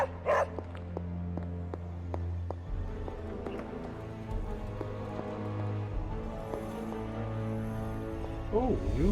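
A dog barks and yips in Marvel's Midnight Suns, short sharp barks repeating through the scene over a steady musical game background, with a voice speaking at times.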